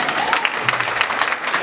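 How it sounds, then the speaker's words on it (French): A congregation claps together during a wedding ceremony in a church, steady dense applause throughout, with a voice faintly underneath. "On applaudit l'Esprit de Dieu."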